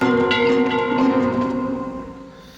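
A large bell rings, probably a church or school bell, with a few struck tones ringing out and slowly decaying over about two and a half seconds, moderately loud with no talk.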